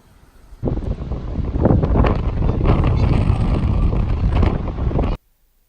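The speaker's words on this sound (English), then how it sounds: "to the gust of wind" A sudden loud rush of wind buffets the microphone for several seconds, rumbling and roaring, then cuts off abruptly to near silence.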